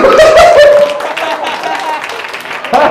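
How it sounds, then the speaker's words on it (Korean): Applause from a youth congregation at a Korean church service welcoming two boys, a loud burst of clapping over a speaking voice that gradually softens. "박수로 환영해주세요."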